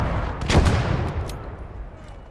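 An LEIG infantry gun fires in the WWII strategy game Kampfgruppe, a dull booming blast with a rumbling tail and a few fainter reports trailing off in the distance.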